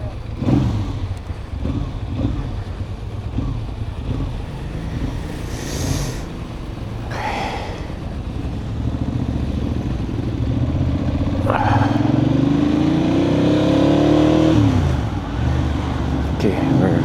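A Ducati Monster S2R motorcycle engine idles and warms up on a morning commute, a steady close rumble that swells with a few rising revs near the end, with brief bursts of clatter and a voice speaking intermittently.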